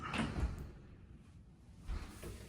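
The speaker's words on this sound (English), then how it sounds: "And then this door slides" A hotel bathroom sliding door rolls open, with a rumbling slide and a knock at the start and another thud near the end, heard close up in a quiet room.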